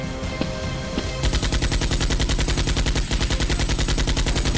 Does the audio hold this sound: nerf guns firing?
yes